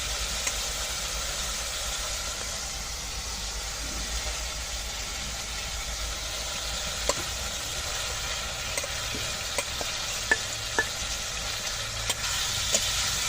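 Fried vegetables stir-fried with spice masala in oil, a steady sizzle with occasional scraping clicks of a spatula toward the end, no voices.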